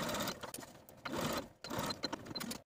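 A home sewing machine stitches the back neckline and center back of a party ball gown to the end of the facing, running in three close bursts with brief pauses between them.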